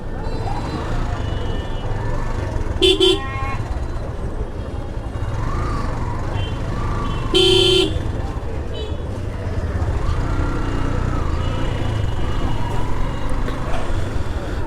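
Traffic jam on a road in Sherpur after rain, heard from a motorbike: a steady engine and road rumble with a couple of short loud horn honks, while people talk now and then.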